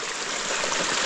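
Rainwater rushing down a street after a heavy downpour, a dense, continuous flowing roar like a stream, steady and close with no voices over it.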